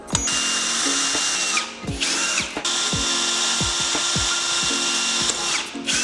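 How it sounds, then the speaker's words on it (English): A power drill bores holes near the corners of a rug tufting frame, whining loudly and steadily, with two short pauses and scattered light knocks and clicks. "What I'm doing here is I'm drilling near the corners, but not at the corners"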